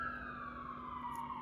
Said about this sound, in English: Sorry for the ambulance, I have the door open.